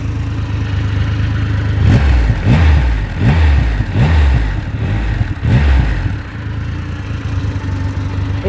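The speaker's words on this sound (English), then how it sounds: "I'll give it a little rev." A 2020 Triumph Rocket 3 R motorcycle engine idles, then is revved several times in quick blips, each rising and falling back, before settling to a steady idle.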